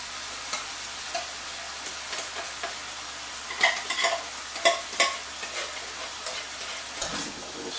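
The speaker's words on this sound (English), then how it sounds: "A little stir." Tex Mex pork chili with creamy corn gets stirred in a sizzling pot: a soft continuous simmer under scattered scraping and knocking of a spoon against the pot, with a few louder strokes midway and no voices.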